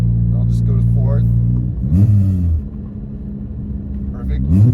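A Volkswagen MK7 GTI engine with an upgraded clutch revs up and drops as gears are shifted down from fifth to fourth at 45, a deep steady drone with rising whines, close and loud, with a voice speaking over it.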